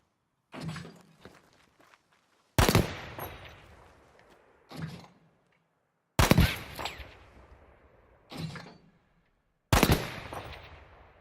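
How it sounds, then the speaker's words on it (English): Single and burst shots from a Battlefield V assault rifle during skeet shooting, five loud sharp reports spaced about two seconds apart, each trailing off into a long echoing decay, with no talk. "Let's see it in action with some skeet shooting."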